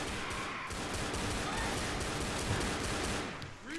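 Video game gunfire in a continuous, dense barrage, close and loud. Rapid overlapping shots and noisy battle sounds fill the whole stretch with no pause.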